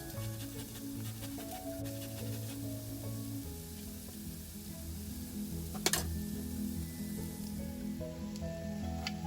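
Onions frying in a pan with salt for a zucchini dish, a steady close sizzle with background ticks and kitchen clatter and a single sharp clink partway through.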